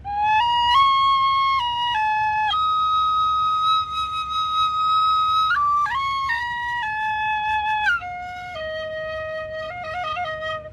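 Penny whistle playing a lively melody of clear, sustained pure notes that step between pitches with quick ornamental flicks, loud and close with no voices throughout.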